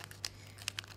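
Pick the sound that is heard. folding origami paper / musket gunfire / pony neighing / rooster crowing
folding origami paper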